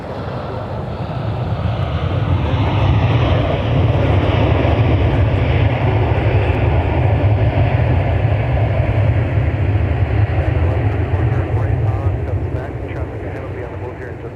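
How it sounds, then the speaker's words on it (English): A Delta Airbus A319, a former Northwest jet arriving from Mexico City, landing on runway 12 right at MSP near sunset; a deep engine roar swells to a loud peak mid-way, then slowly fades. "runway 12 right is Delta 605 from Mexico City."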